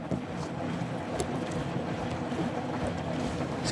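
Hotpoint Active Care washing machine rinsing suds out of a load of clothes, a steady broadband watery churn and slosh that holds at an even level throughout.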